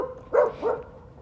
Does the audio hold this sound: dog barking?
yes